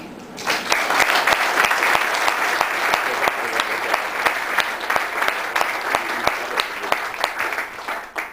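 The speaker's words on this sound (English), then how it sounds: "So give yourselves a round of applause for being here this evening." An awards-evening audience applauds itself in a sustained round of clapping, dense and steady throughout with a few sharper individual claps standing out near the front.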